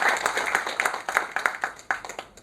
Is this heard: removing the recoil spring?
no